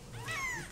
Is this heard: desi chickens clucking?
no